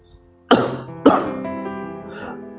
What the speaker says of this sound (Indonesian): Batuk-batuk kecil merejam.